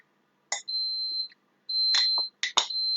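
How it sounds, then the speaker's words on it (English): A washing machine signals the end of its cycle with a string of electronic beeps, held high tones broken by short clicks, heard fairly close and alone. "That is the sound of the washing machine being finished."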